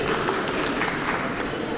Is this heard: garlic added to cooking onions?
no